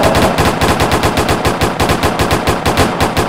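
Rapid automatic gunfire in a video game, a loud, sustained burst of evenly spaced shots firing continuously for a few seconds.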